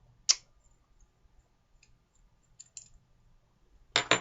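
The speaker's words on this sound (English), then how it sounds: "And tighten the razor till it's firmly tight" Small plastic-and-metal clicks and ticks from a double-edge safety razor being twisted and cranked firmly tight, a sharp click near the start, a few faint ticks after, and a louder double burst of clicking at the end.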